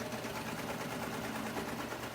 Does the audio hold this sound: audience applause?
no